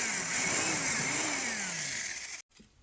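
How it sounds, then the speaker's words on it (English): A power drill whines steadily at high speed for a couple of seconds, drilling a bracket hole on a Toyota pickup, its pitch shifting slightly, then cuts off abruptly. "drill the hole through"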